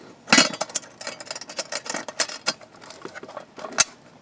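The metal top of a Lixada wood gas stove is closed, giving a series of sharp metallic clinks and scrapes, close and fairly loud, with a final bright clank near the end.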